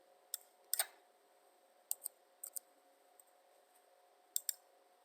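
Sharp, isolated computer mouse clicks sound at uneven intervals, some single and some in quick pairs, close and fairly quiet against a faint background hum.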